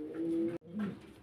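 Pigeons of a prized show-quality breed at a market coo in two close, loud, drawn-out calls, separated by a brief gap.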